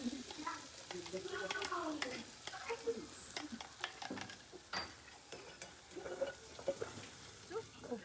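Onions sizzle in a pan with turmeric added while being stirred for a gravy, with a soft steady frying hiss and scraping under occasional faint voices.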